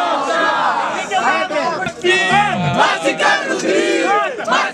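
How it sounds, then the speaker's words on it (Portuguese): Crowd at a freestyle rap battle in Guarulhos roars and cheers loudly, sustained shouting and whooping from many voices filling the space close by. "barulhos, barulhos pra quem gostou das rimas do Brenner"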